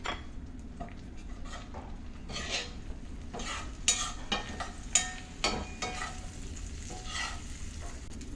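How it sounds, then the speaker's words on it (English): Cubed tortilla frying in melted butter and stirred in a pan, giving a soft, close sizzle broken by repeated scrapes and light clinks of a utensil against the pan. "kind of stir it up to get your tortilla mixed in and coated with butter and moderately done"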